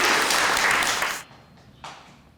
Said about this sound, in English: Round of applause for the Chief before he goes.